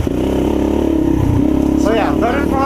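A modded 2016 Yamaha TTR230 dirt bike, regeared and rejetted, accelerates with a steady, loud engine drone that rises in pitch near the end while someone talks over it.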